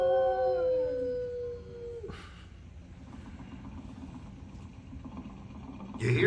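Rover the dog in Disney's Carousel of Progress gives a rising, wavering howl for about two seconds over a low, steady rumble of background machinery, with a soft hubbub of voices around.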